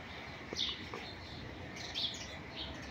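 Lovebirds chirp in short, high tweets, a few scattered calls over a faint background hum.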